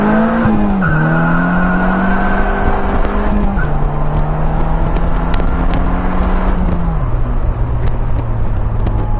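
A Polaris Slingshot's back end spins out, its engine roaring steadily and loudly while the rear tires squeal and skid continuously, the engine pitch dropping in steps as it shifts.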